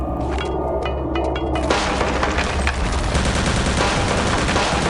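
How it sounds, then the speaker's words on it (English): Rapid gunfire and grenade blasts from the video game Crosshair form a loud, dense, continuous barrage, with sharp separate shots at the start giving way to a sustained roar of overlapping fire. "And place 2 grenades here."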